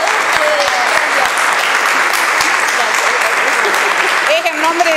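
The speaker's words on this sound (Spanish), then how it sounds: "Un aplauso entonces para acá que van a recibir un regalito." A group applauds at a sports department event, steady crowded clapping that carries through the whole stretch, with a few faint voices rising near the end.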